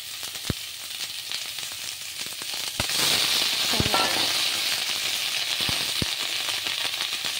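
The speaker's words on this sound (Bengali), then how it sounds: "হালকা ভেজে নেব, বেশি নয়।" Eggs fry lightly in a pan for chilli egg, giving a soft, steady sizzle that swells louder partway through. A few sharp utensil clicks and taps stand out over the continuous hiss.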